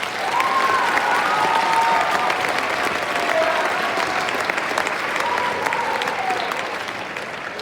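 Steady, full audience applause filling a concert hall to welcome the Valley View Middle School 7th grade band, sustained and even for several seconds, with faint whoops rising above the clapping.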